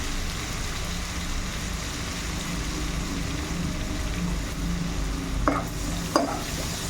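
Ladyfinger and tomato curry is stirred in a pan, a steady hiss of frying under a soft rustle of mixing, with two sharp spoon knocks against the pan near the end.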